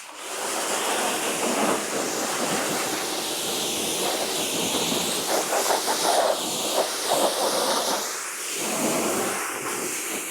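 Water spray rinses a filthy car during a foam wash, a steady, loud hissing rush running the whole time with slight surges as the jet moves across the panels and into the nooks.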